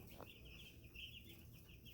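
A flock of chickens clucks and chatters in soft, overlapping calls at a distance, under a steady low hum of background noise.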